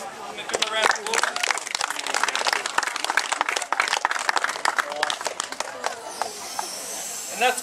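Audience applause following a police taser demonstration at an outdoor NSW Police open day in Fairfield, steady dense clapping from a nearby crowd that eases off toward the end.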